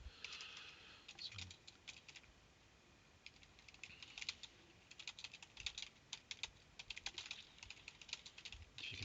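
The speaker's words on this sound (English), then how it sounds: "if you can hear the tap tap tap tap off the keyboard" Someone types on a computer keyboard with quick, irregular taps that come in bursts and pauses, quiet and close.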